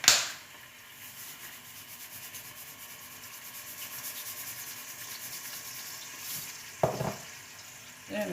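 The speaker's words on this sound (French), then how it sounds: "maintenant, mon huile a chauffé. Je vais y glisser mon lapin." Rabbit pieces frying in hot oil, a faint steady sizzle and crackle with a soft scraping clatter near the end.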